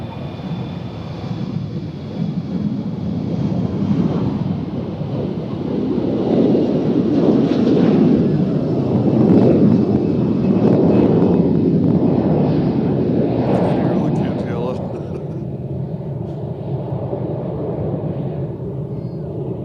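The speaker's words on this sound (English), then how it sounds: "looks like American Airlines is taking off" An American Airlines jet airliner takes off at Cincinnati airport, its engine roar swelling from a distant rumble into a loud, broad wash and then fading, with wind buffeting the microphone and no talking.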